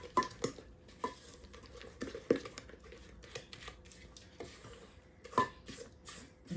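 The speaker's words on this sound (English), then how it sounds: "now I'm going to stir this together." Rhubarb coffee cake batter stirred in a mixing bowl, with soft scraping and knocking of a utensil against the bowl in irregular strokes, close and fairly quiet.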